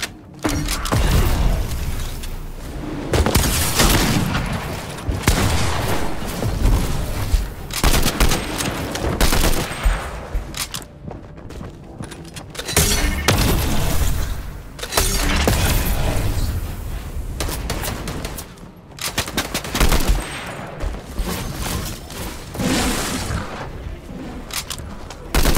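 Fortnite combat with the new combat assault rifle, repeated loud gunfire bursts mixed with mechanical clanks and creaking game effects, coming in waves with short lulls between.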